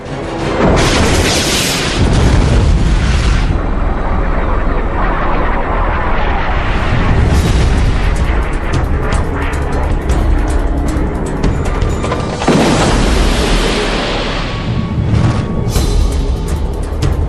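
A missile explodes near a MiG fighter jet in an aerial dogfight, a long, loud roar of booms and jet noise that swells and rumbles for over fifteen seconds, dense and continuous throughout.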